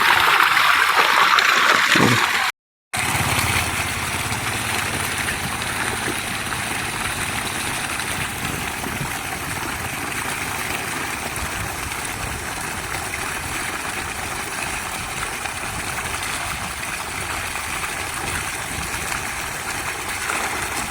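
Steady rushing water at about 85 degrees Celsius gushes continuously from a borewell at close range, a dense broadband gush with a brief dropout near the start, no voices.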